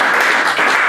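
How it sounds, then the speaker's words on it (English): A brief, dense burst of audience applause at a certificate presentation, many hands clapping together in a loud, steady wash. "So big round of applause."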